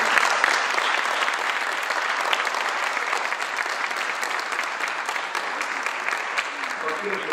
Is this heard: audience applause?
yes